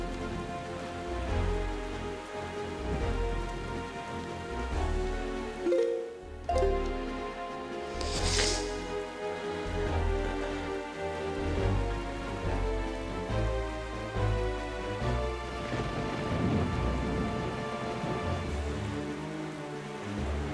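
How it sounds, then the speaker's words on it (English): Thunderstorm rain falls steadily at sea in the video game The Legend of Zelda: Wind Waker HD, a constant patter mixed with background game music and no talk. "Yeah, we're gonna be having this thunderstorm for a while."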